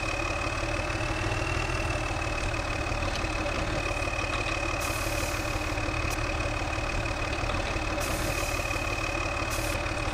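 A farm harvest machine's engine idles in a steady, unbroken mid-to-low drone during a harvest in a farming career game. Faint hiss comes and goes above it, with no speech.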